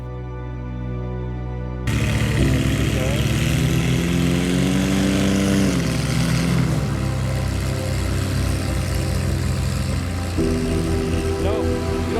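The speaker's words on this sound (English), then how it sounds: "Some engine trouble, seems to be carburation." A small propeller plane taking off from a gravel bar with carburetion trouble, its engine note droning loud and close, wavering and shifting pitch as it labours, with a voice talking over it.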